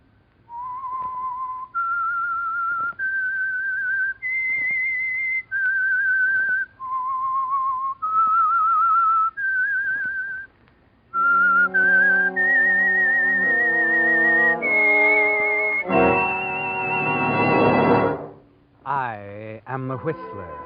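The whistled opening signal of the 1947 radio drama The Whistler, sustained notes stepping up and down, clear and close, shifting into a fuller orchestral passage at the end.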